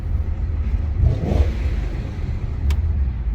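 A 2000 BMW E39 M5 engine hums at a deep, steady idle, rising briefly in a short rev before settling back to a low rumble.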